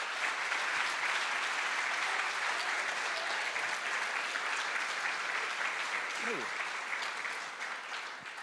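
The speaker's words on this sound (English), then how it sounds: "Round of applause for some cool looking photos." A conference audience in Marbella, Spain applauds, a loud, continuous sheet of clapping filling the room that tapers off slightly toward the end.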